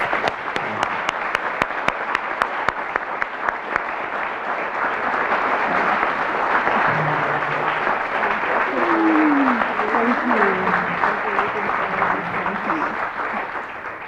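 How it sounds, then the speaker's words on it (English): Audience applause welcoming the Honorable Jean Augustine at a celebration of Western's inaugural Black scholarship, with a few sharp distinct claps at first swelling into steady full-room clapping, while a voice talks faintly underneath partway through. "I invite you all to join me in giving her a warm and well-deserved round of applause"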